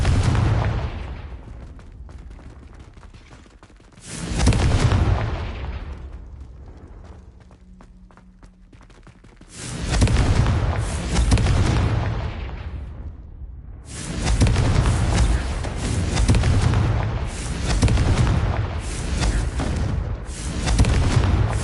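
Confringo fire spells from Hogwarts Legacy blast in loud, booming bursts, separate heavy explosions at intervals with some longer rumbling stretches between them, with no talking.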